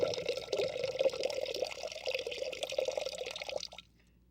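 Water drips and trickles steadily in a lunar cave setting, a busy, close patter of droplets that carries on for several seconds and then stops abruptly, leaving near silence.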